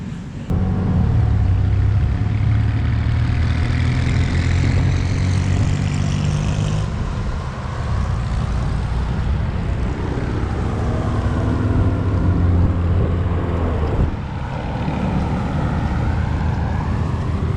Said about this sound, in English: That was an Uber Lyft car.